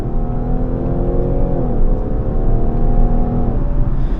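A Mazda CX-60 e-Skyactiv PHEV with 327 hp plays an artificial engine sound inside the cabin, a steady harmonic drone that dips in pitch as it shifts gear and then holds again.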